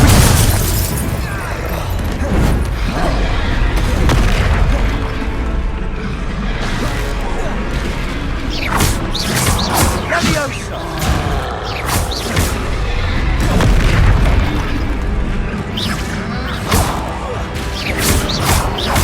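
Confringo and Descendo spell blasts in Hogwarts Legacy fire in dense succession, loud crashes and thumping impacts layered over constant battle noise and shouted game dialogue throughout.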